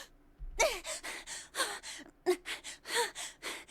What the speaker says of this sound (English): I love my anime panting.